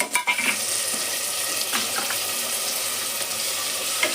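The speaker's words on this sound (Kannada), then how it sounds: "ಆಮೇಲೆ ಫ್ರೈ ಮಾಡಬೇಕು ಚೆನ್ನಾಗಿ" Chopped tomatoes fry in a pan for kara pongal, giving a steady close sizzle with a few light clinks and stirring scrapes and no talking.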